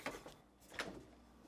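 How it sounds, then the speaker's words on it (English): GE refrigerator doors are pulled open, giving two soft, quiet thumps of seals releasing, spaced under a second apart in a quiet room. "Start by opening the doors."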